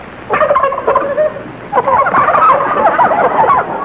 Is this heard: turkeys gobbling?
yes